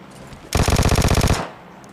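Automatic gunfire in PUBG Lite kills a bot: one loud, rapid burst of about a dozen evenly spaced shots lasting close to a second, then a short fading tail, with no speech.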